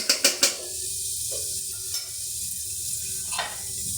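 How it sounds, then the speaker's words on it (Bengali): Food frying in a pan over a low flame, with three quick metallic taps of a spoon against the pan at the start, then a steady gentle sizzle and soft scraping as it is stirred, close and without talk. "এখন একটু এই যে নাড়াচাড়া করে দিচ্ছি কারণ একটু লেগে যেতেও পারে আর আমি অল্প জালে এখানে জিনিসটাকে ভাজবো"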